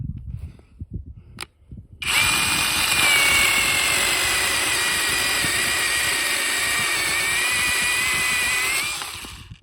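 A BAUER 20-volt brushless pruning saw cuts outdoors for about seven seconds, a loud steady high-pitched whine that starts abruptly after a brief click and tapers off at the end.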